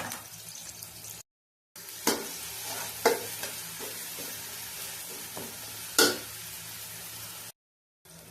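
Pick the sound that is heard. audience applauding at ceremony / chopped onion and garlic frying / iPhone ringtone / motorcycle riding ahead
chopped onion and garlic frying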